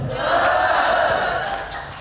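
Women in the audience of an Islamic religious lecture clap their hands together, a dense, steady wash of applause that holds at even loudness before easing slightly at the end, with no talk over it.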